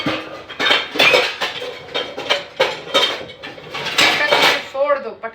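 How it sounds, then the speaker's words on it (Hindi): A large kadai being handled in a home kitchen while gulab jamun is made: loud, repeated metallic clanks and rattles of pots and pans, closely miked and continuous, ending with a brief voice. "Get this big कढ़ाई."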